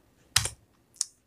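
Keys clacking on a computer keyboard while entering items in billing software, one double keystroke followed by a lighter single tap, close and crisp in a quiet room.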